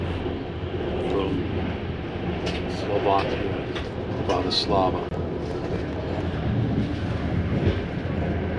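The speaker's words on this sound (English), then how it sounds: "This is our first class train to Budapest from" A first class passenger train to Budapest rumbles and rattles steadily along the tracks past farmland, heard from inside a carriage, while a person speaks over the constant noise.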